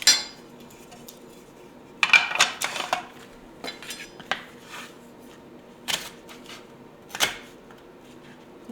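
A knife cutting up an onion on a board, with irregular sharp chops and clicks separated by quiet pauses, some in quick bursts.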